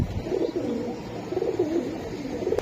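A new adult pigeon, a flying breed, coos in a steady low rolling stream for the whole stretch, close and fairly loud, with no talk over it.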